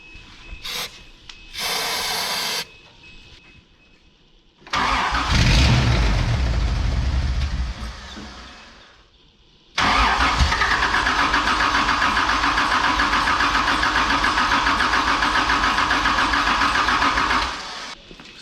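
An old, rusty vehicle's engine cranks and fires up, revving loudly, dropping back, then settling into a steady, loud running drone that holds for several seconds before cutting off.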